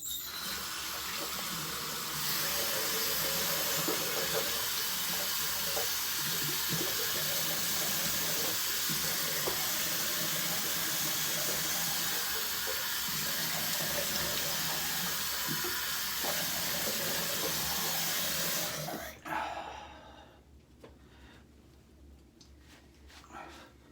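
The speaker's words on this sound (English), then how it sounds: "Let's go ahead and rinse off the razor, rinse off my face" Tap water runs steadily and loudly for about nineteen seconds as a Mach 3 razor and a face are rinsed at a sink, then cuts off, leaving a quieter room with faint movement.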